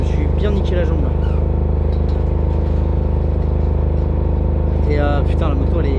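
A rally motorcycle in the Dakar Rally, its engine a loud, steady, close droning hum throughout, with brief voices heard over it near the start and again toward the end.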